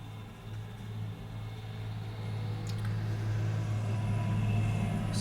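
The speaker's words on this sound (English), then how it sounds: "I've got a road that goes past me and there's a lot of farm vehicles going by" Road traffic, including farm vehicles, passes outside a window as a low, steady engine rumble that gradually swells louder, with faint higher noises drifting in.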